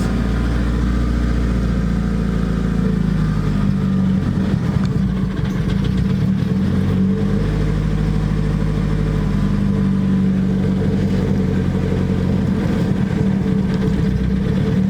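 A turbocharged car engine with upgraded cams idles loudly and steadily, with a deep lumpy rumble and a few mild revs rising and falling throughout.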